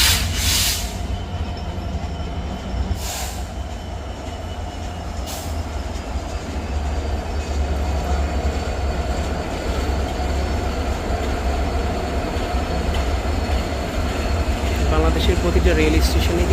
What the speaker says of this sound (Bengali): এখন আমরা দেখতে পাচ্ছি একটা ট্রেনও আসছে।